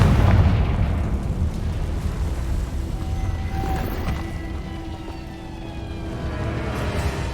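The Confringo fire spell detonates in the Hogwarts Legacy video game, a heavy booming blast that rolls into a sustained low rumble under faint tonal game sounds.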